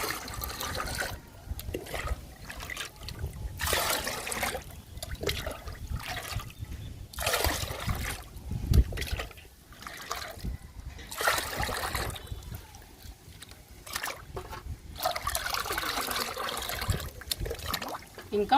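Homemade liquid plant fertilizer made from kitchen waste, green grass and tea decoction being poured into water, with repeated bursts of splashing and trickling close by, pausing between pours.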